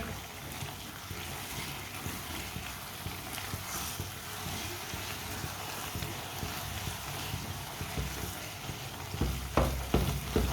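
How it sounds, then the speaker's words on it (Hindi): Makhandi halwa sizzles and browns in a pan under a spoon stirred continuously, a dense steady frying hiss with a louder clatter of the spoon near the end. "अब इसी तरह चम्मच चलाते हुए हल्का सा ब्राउन कर लेंगे"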